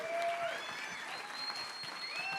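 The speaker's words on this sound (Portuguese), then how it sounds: "eu queria que vocês aplaudissem, né, esses 3" An audience at a church volunteer event claps steadily and fairly loudly for a few seconds, with faint voices mixed in.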